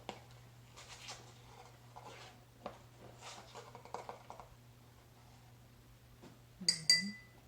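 Baking soda spooned into a tall glass gives a series of light, scattered clinks of metal against glass, with a brighter, louder clink near the end.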